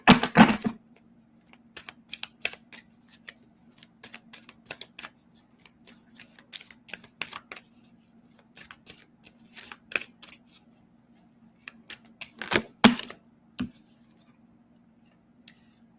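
Stiff oracle cards are shuffled by hand. The sound is a sparse run of crisp clicks and flicks with quiet gaps between them, close and fairly soft, with no talking.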